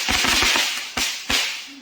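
Firecrackers burst outdoors: a quick rattling string of cracks, then two louder separate bangs about a third of a second apart, each fading quickly.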